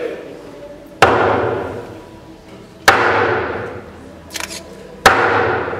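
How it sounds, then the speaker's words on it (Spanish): Hammer blows drawing a nail during an Easter week passion procession in Porto do Son: three loud, sharp, separate strikes spaced about two seconds apart, each ringing out, with a brief clatter between. "Otra vez suenan los golpes de martillo."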